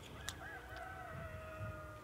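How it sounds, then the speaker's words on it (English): A rooster crows faintly in the distance early in the morning in a quiet Tasmanian coastal town, one drawn-out call heard against soft background ambience, with no talk. "hearing the rooster."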